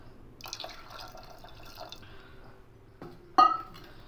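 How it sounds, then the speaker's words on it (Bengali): Water is poured into a pressure cooker for ghugni, with soft, sparse trickles and drips, then a short, louder splash near the end, heard close in a quiet kitchen. "তা এইভাবে আমি জলটা দিয়ে দেব।"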